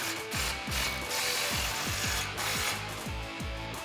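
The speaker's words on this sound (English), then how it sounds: "grab your 15 socket and tighten that guy down" Ratchet with a 15 mm socket tightening an exhaust clamp on a 2019-2021 RAM 1500 5.7L with a Flowmaster Outlaw dual exhaust, giving repeated rapid pawl clicks in short bursts, close and clear with no talking.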